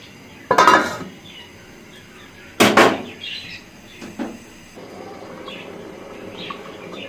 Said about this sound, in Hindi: अब मैं इसको थोड़ी देर के लिए ढक दूँगी।